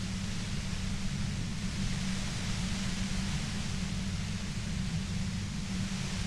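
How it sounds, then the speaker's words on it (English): Steady hissing white noise static from the video game Disco Elysium, dense, unchanging and constant with a low rumbling hum beneath, no voices. "You hear through the white noise. It's especially bad suddenly."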